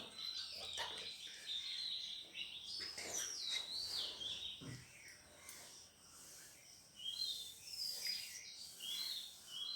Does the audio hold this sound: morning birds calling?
yes